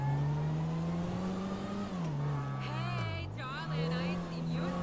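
A car accelerating in the driving game GTA 5 makes a close, steady engine whine that holds a tone, dips as if shifting or easing off, then climbs again. A voice talks briefly over the engine.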